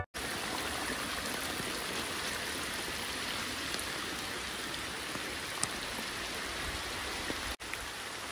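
Steady monsoon rain falls at a farm house among fields, a dense continuous hiss of drops on surfaces with a trickling wash underneath, close and even throughout with one brief dropout near the end.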